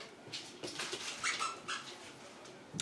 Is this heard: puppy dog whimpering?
yes